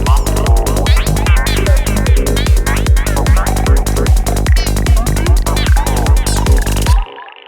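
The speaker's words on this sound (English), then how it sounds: "let's give them some delay and some kick and bass," Fred's Lab Manatee synth patches over a steady four-on-the-floor kick and bass, with delay on the synth: dense, loud, driving electronic groove with punchy evenly spaced kicks that runs about seven seconds, then cuts to a short delay tail.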